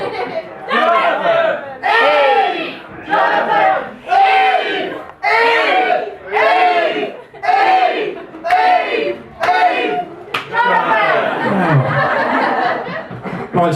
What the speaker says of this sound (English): can you do the whooping and the cheering